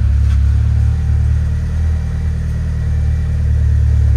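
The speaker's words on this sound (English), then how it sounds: "You can always confirm by starting the car twice" A Saab 9-3 engine starts and settles into a loud, steady mid-pitched running rumble close by, with no voices over it.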